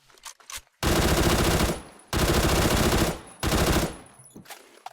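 Three long bursts of rapid automatic fire from an AK107 rifle in the shooter game Phantom Forces, each lasting about a second with short gaps between, loud and close, with no talking.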